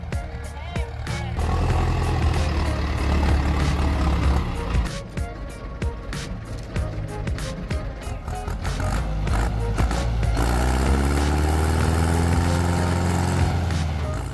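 Heavy tractor engines roar and labour continuously while pulling a stuck tractor out of soft, sandy mud, with loud, rough revving that rises and falls close by.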